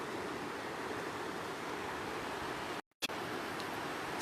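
The Athabasca River rushing in a steady, broadband wash of flowing water with light rain, continuous and fairly loud, broken by a brief dropout of near silence.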